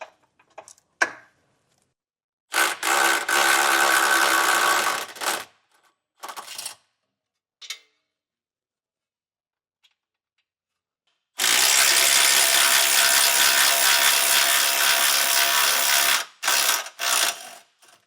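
A ratchet wrench loosens 18mm bumper nuts on a 2025 Jeep: a quick tick, then two long, loud bursts of rapid pawl clicking separated by short spurts and pauses, and a few brief clicking runs at the end, with no talking.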